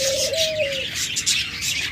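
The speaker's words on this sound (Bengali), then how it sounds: "পাইড হলো সবথেকে সৌন্দর্যময় একটা পাখি" A pair of pied pet birds calls nearby, one clear drawn-out coo-like whistle followed by scattered high chirps and tweets, with no talking.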